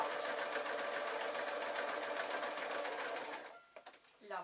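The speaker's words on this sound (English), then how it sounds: "I'm going to force my machine to keep on sewing and doing this one." A sewing machine stitches bunny puppet ears in a fast, steady whirring run for several seconds, then slows and stops with a few soft clicks and handling noises.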